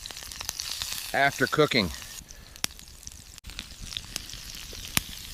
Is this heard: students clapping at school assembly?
no